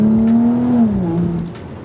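BMW 335i with the N55 engine letting out exhaust pops on deceleration, a loud droning note sliding down in pitch with a few crackles close by.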